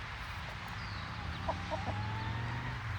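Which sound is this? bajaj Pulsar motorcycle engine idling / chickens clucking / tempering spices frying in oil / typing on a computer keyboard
chickens clucking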